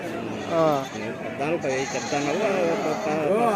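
Goats and sheep bleat repeatedly at a weekly livestock market in Kadiri, the wavering calls close and overlapping while people talk and bargain nearby.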